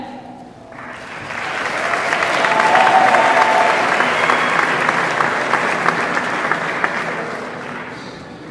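At a technical and vocational school graduation ceremony, a large audience applauds the graduates: clapping swells from quiet to a dense, sustained roar, then tapers slightly while continuing.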